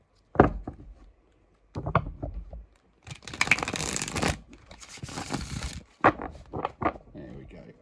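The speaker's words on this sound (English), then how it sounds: "And we get a nice good overhand shuffle with it as well." A tarot deck is given an overhand shuffle by hand in short, repeated bursts of soft slapping and rustling, broken up by a few knocks and taps close by.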